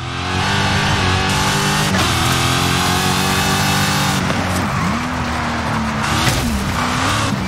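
A car in Forza Horizon 5 drifts off-road, its engine roaring loud and steady with shifting revs, pitch swoops and tyre scrub running throughout, with no talk over it.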